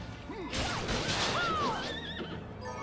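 A horse in the video game Bloodstained: Ritual of the Night gives a loud, wavering whinny that rises and falls over about two seconds, with game noise underneath.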